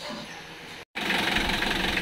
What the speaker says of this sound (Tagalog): napaandar na yung ating makina